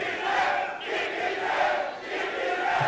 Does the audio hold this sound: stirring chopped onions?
no